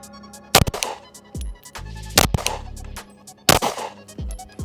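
Glock pistol fitted with an Angled Spades Imperium 9C fires two loud, close, sharp shots about three seconds apart, each with a short echoing tail, plus a few smaller knocks and handling noises on an outdoor range.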